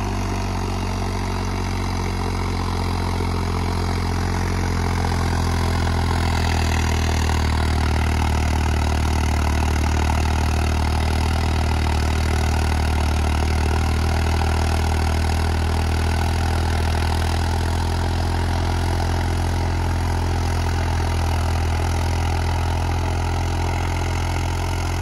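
A Deutz-Fahr 70 hp tractor with a cultivator attached runs steadily close by, a loud, even low engine drone that holds without a break for the whole stretch.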